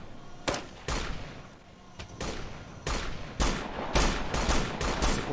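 Sharp, loud gunshots ring out in Operation Flashpoint: Dragon Rising, a military shooter, at first spaced apart as single cracks and then bunching into quicker volleys toward the end, with no talking.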